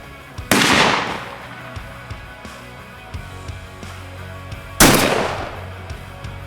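Two loud shotgun blasts from a turkey gun fired at turkey targets on an outdoor range, a few seconds apart, each a sharp boom with a ringing decay over faint background noise.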